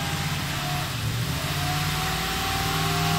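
A car engine holds a steady high idle right after its throttle body was cleaned, a loud, continuous mechanical drone with a constant pitch and no talk over it.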